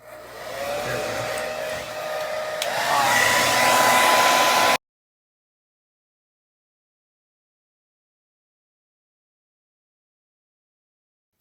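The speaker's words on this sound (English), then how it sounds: "we're going to heat up this camera because them big chunks will not come off" A hot air blower roars steadily while heating the camera of a Moto G Power (2020) phone to soften its adhesive, rising slightly in pitch before cutting off abruptly into silence.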